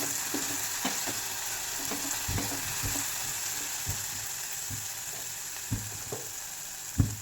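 A spice paste being sautéed and stirred in a pan for a fasting-style potato dish gives a steady close sizzle, broken by scattered clacks and scrapes of the spoon against the metal.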